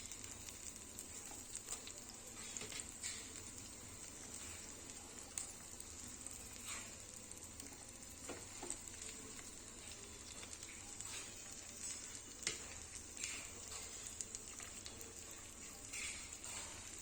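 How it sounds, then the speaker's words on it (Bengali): Amudi fish shallow-frying in a pan, turned side to side without crisping: a soft, steady sizzle with faint crackles and spits, heard close and alone. "শুধু মাছগুলো এপিট ওপিট করে ভাজা হবে, কোনো কড়া ভাজা হবে না"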